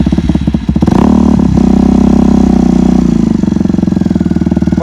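A motorcycle engine revs hard for wheelie practice at a stunt training session. The throttle rises near the start and then holds a loud, close, steady roar with a rapid pulsing beat, with no talking.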